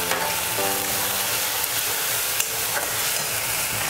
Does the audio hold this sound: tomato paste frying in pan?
yes